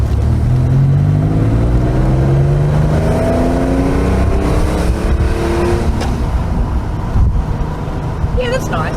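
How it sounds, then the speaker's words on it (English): A Citroen car engine runs loud and close, rising in pitch through several rev sweeps as it accelerates, with a brief sharp high sound near the end; people talk over it. "That engine's phenomenal."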